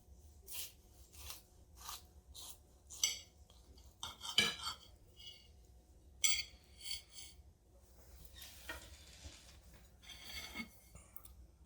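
A knife and fork work into a cooked turkey burger on a plate, giving a series of close, light metallic clinks and scrapes spread irregularly across the stretch.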